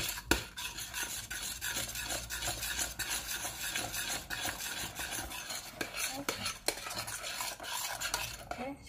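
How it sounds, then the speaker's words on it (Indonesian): A utensil scrapes and stirs steadily through a thick mixture of fragrant fried garlic base and tapioca flour in a pan for cireng dough, with continuous clinking and rasping, light sizzling, and no voices. "sekarang kita aduk ya dengan tapioka"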